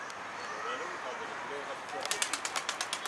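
Pigeons, loosed from a rooftop loft, take off with a quick series of sharp wing claps near the end, over a faint background murmur.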